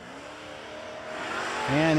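Drag race cars, including a Buick Century wagon, at the Bernie Mann Memorial No Delay Nationals: an engine drone builds steadily in pitch and loudness as the cars launch, with an announcer talking over it.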